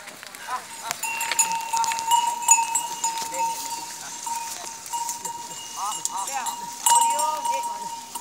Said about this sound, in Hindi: देखो बकरियां ऊपर आई है